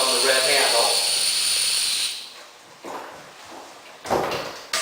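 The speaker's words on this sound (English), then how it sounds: "We release the air by pulling on the red handle" Pressurized air hisses loudly from a pump-up sprayer as its red release handle is pulled, a strong two-second rush that cuts off, followed by a few short, fainter bursts.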